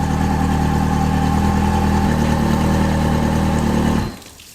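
A two-stroke outboard boat engine, an E-TEC under restoration, runs at a steady loud idle close by with a buzzing drone, then cuts off abruptly near the end.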